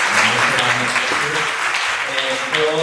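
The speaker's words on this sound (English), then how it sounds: "another round of applause for Sir Aldrin." Crowd applause fills the room, a dense patter of clapping heard alongside a voice talking over it.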